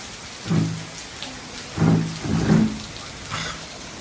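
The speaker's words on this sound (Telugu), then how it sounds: "ఫుల్ వర్షం అండి." Heavy rain pours steadily throughout a power cut, with bursts of rumbling thunder rolling in at close range, loud and alone with no talk.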